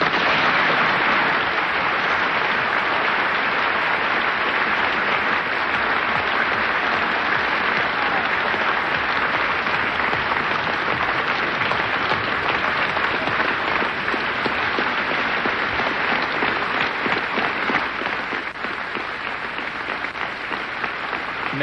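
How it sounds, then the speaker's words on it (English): An audience at the Union, the debating hall, gives a standing ovation after James Baldwin's 1965 speech. Dense, sustained applause roars steadily throughout and eases only slightly near the end. "the whole of the Union standing and applauding this magnificent speech of James Baldwin"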